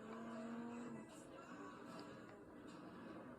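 Cars in the Need for Speed racing game driving through traffic, a steady engine drone with brief tire noise, no talk over it.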